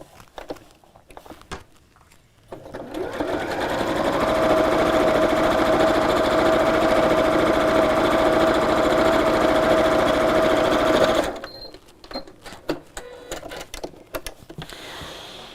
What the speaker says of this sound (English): just top stitch straight across that top side